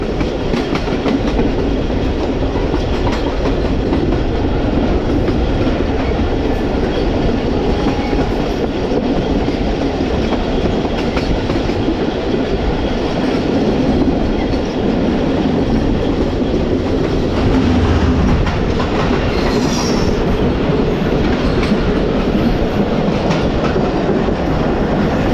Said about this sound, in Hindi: तो ये एक और ZCUP20 के साथ ट्रेन आ रही है, और ये है 33 up park business express Karachi Lahore के दरमियान चलने वाली